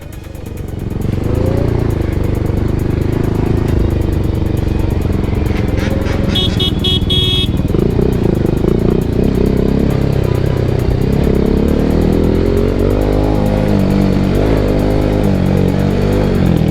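Motorcycles ridden during a police chase: loud, close engine roar with shifting revs and steady throttle changes throughout, plus a brief horn-like tone partway through.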